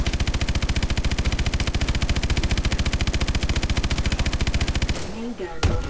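Rapid-fire main gun in a sci-fi video game, a dense, steady stream of loud shots at an even rhythm for about five seconds, then stopping abruptly, followed by a short whirring, winding-down sound.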